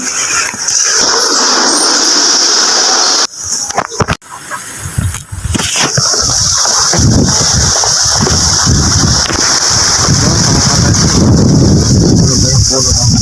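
Loud, gusting typhoon wind roars and buffets the microphone, briefly dropping before surging again, with splashing rain-like noise.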